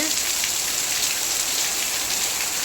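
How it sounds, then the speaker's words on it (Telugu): Heavy rain falls steadily, a constant close hiss of drops with no pauses and no voices. "వర్షం అయితే మాత్రం చాలా విపరీతంగా అయితే వస్తుందండి"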